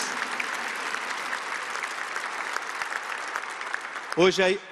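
Church congregation applauding during a novena homily for a patron saint, steady clapping from a sizeable crowd, moderately loud and sustained, before a voice briefly starts speaking at the end.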